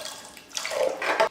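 Water poured into a pressure cooker while making Kerala-style kadala curry, a short splashing pour in two bursts that builds and then cuts off abruptly, close and fairly loud.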